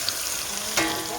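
Chicken going into a pan of sautéed onions and frying, a steady close sizzle with one brief louder burst partway through.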